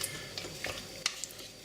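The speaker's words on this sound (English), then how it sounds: "we're going to slowly stir this in" Melting chocolate being stirred in a bowl, a soft continuous scraping with a few faint clinks, quiet and close with no talk.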